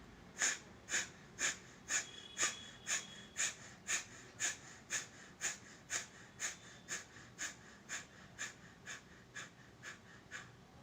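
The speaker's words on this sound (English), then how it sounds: "Sitting comfortably, taking a deep inhalation. We have to start exhaling continuously." Kapalabhati pranayama breathing: about twenty forceful, rhythmic nasal exhalations in a steady series of sharp puffs, close and clear, each roughly half a second apart and slowly weakening toward the end.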